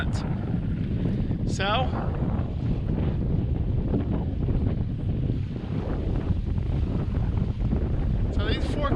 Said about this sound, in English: probably this wind's even a little more than 10 knots, 10 or 12 knots, and it came up in the span of about 10 minutes.